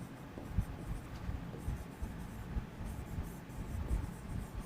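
Marker or chalk scratching on a board during an English grammar lesson, soft irregular strokes and taps close by against a steady room hiss.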